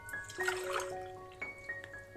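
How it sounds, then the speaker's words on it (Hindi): Water pours into a cooking pot for an herbal decoction, a gurgling splash with rising ringing tones as the vessel fills. It is fairly quiet and no one speaks. "सबसे पहले हम इसके अंदर पानी डालते हैं।"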